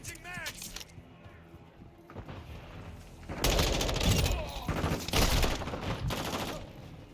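Gunfire in Modern Warfare II multiplayer starts with scattered shots, then breaks into loud, sustained rapid bursts with brief gaps, close and dense, with a voice talking in places.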